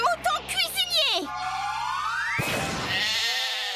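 Cartoonish sheep bleats from the Black Clover anime, a quick wavering series at the start followed by a long rising whistle-like cry and a bright burst, all close and loud.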